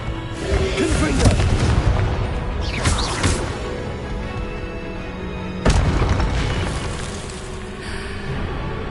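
A Confringo fire spell in Hogwarts Legacy blasts out as loud, booming explosions in a dense, crashing battle mix, with a sharp burst about two thirds of the way through.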